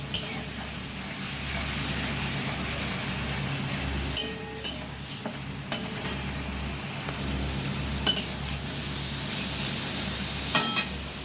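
Grated ginger and a fish head with a little water are sautéed in a pan, giving a steady sizzle with scattered spatula scrapes and clinks against the metal.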